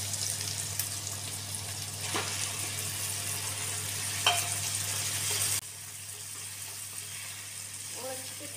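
Chicken keema frying in a pan with softened tomato and onion, a steady close sizzle running for most of the stretch before dropping quieter near the end, with faint clinks.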